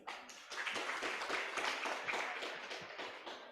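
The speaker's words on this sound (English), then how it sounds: "please give a round of applause to our great speaker just now" A crowd claps steadily for a few seconds, a dense, even patter of many hands without speech.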